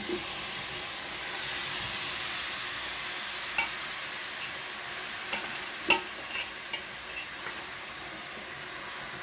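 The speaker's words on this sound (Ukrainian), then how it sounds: "А звідси все є висипаю на сковорідку. Сковорідка нагрілася." Zucchini and other vegetables for squash caviar sizzle steadily in a hot pan, a constant hiss broken by a few sharp pops and light scraping stirs toward the end.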